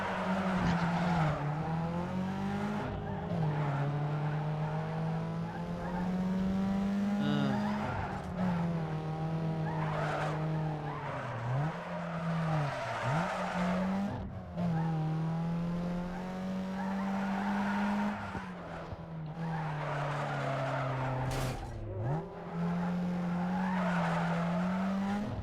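A video game car holds a long sideways drift, its tires screeching continuously with wavering pitch over a droning engine, loud and close throughout with only brief dips where the slide wavers.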